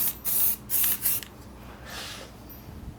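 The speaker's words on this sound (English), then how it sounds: "just kind of lightly spraying it" Several short bursts of spray from a can, hissing in quick succession, followed by a softer, longer spritz.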